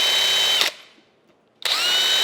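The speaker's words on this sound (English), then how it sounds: "We're just going to drill this Babbitt out." A power drill bores out Babbitt bearing metal in a steam governor part, giving a loud, steady high whine that stops for about a second and then starts again at full speed.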